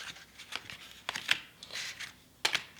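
A deck of tarot cards is shuffled by hand in short, crisp riffling bursts separated by brief pauses, close and fairly quiet with no talking.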